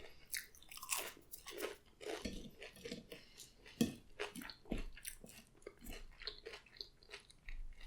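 Crunchy fried onion rings are chewed close to the microphone during a fried-chicken mukbang, with repeated crisp bites and crunching in irregular bursts, quiet overall with no talk.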